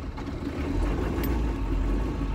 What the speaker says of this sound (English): This is a live startup now.